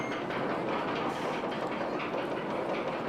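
A roller coaster train in RollerCoaster Tycoon rushes at high speed through an underground section, a steady rumbling clatter of wheels on track with no talking.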